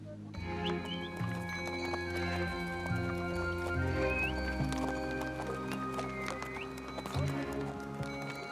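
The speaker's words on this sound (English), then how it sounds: "It's very difficult for the horses to walk here." Horses of a caravan plod along a rough mountain trail in Zanskar, their irregular hoof clops blending into a dense, continuous rumble of movement and background noise.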